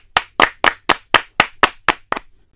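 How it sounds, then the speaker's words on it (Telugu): Nine sharp, evenly spaced hand claps from a village gathering, loud and close with a steady rhythm, fading out at the end with no talk over them. "చప్పట్లు కొట్టి ఇప్పుడు బబ్లు వచ్చే మాట్లాడమని కోరుతున్నాను"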